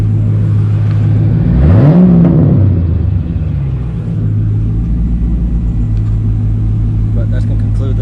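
Engine of a 4th Gen Camaro SS SLP revs once, rising and falling in pitch, then settles back to a steady low idle rumble close by.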